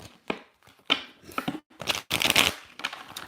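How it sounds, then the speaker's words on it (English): A deck of oracle cards is shuffled by hand close up, producing a series of soft riffling and flicking bursts with short pauses between them. "Feel like I need to shuffle this deck a few times real quick."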